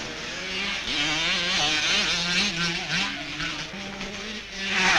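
Kawasaki motocross motorcycles race in an All-Japan Motocross Championship round, their engines whining and revving up and down in overlapping, wavering pitches, loud and close throughout.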